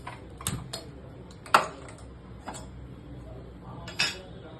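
Several sharp, close clicks from a kitchen gas stove's igniter, spaced irregularly with brief pauses, while doi katla (a yogurt carp curry) is being prepared.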